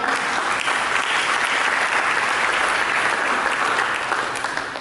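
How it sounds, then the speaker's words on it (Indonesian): A church congregation applauds during a Sunday service, a dense, steady wash of many hands clapping at once, loud and sustained for the whole stretch and fading slightly at the end. "Mari sambut dengan tepuk tangan."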